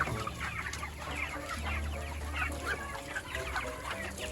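Broiler chickens cluck steadily in a farm pen while being fed, a dense flock of overlapping clucks and calls close by, continuous for the whole stretch with no talking.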